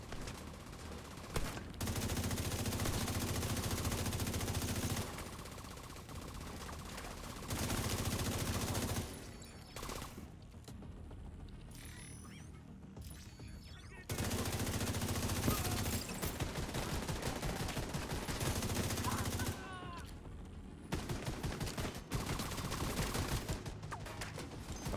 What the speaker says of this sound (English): Uzi.